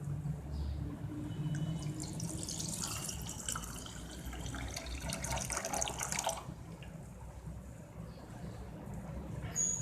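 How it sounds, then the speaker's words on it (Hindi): Sattu sharbat being stirred and poured into a glass of ice cubes, giving a steady, close splashing and trickling of liquid that runs for about ten seconds with no talking. "अब मैं इसको हिलाती हूँ और हम इसको डाल देते हैं।"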